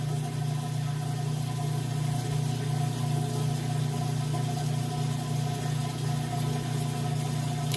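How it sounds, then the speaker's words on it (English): A Whirlpool washer's drain pump hums steadily and loudly, a constant low drone with faint rattling overtones and no breaks or talk throughout. "You can hear right at its drain too. The pump, the drain works perfectly."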